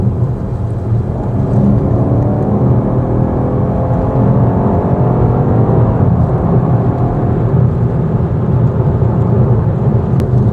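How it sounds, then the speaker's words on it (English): A BMW X5M Competition SUV under hard acceleration, heard from inside as a loud, continuous low engine roar with steady rumbling drone and no breaks, filling the whole cabin. "when you put your foot down in this car, it pushes you in"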